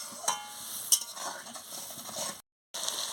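Stirring puti fish curry with water and salt in a pan: soft scraping and a couple of sharp metallic clinks of a spoon against the pan over a faint sizzle, broken by a brief silent gap.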